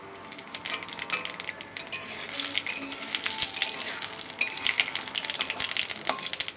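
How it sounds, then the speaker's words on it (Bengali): Cumin seeds crackle in hot oil with a bay leaf and a dried red chilli, a close, busy sizzle broken by irregular stirring scrapes and small pops. "জিরেটা ভাজা ভাজা হয়ে গেছে, এবার তুলে নেব।"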